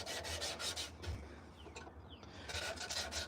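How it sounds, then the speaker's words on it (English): Sanding a hand-carved wooden spoon in a chilly morning workshop: a steady, close abrasive rubbing and rasping with rhythmic strokes, continuing with a brief pause in the middle, no talk. "doing some sanding"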